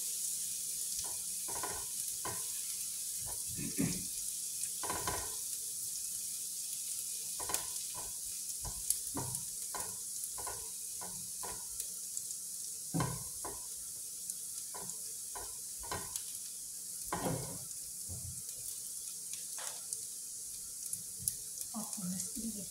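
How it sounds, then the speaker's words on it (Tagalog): Food sautéing in a pan while being stirred, giving a steady sizzle and frying hiss broken by repeated scrapes and clatters of a utensil against the pan, close and continuous with no talk. "Ulahin lang po natin siya ng konti."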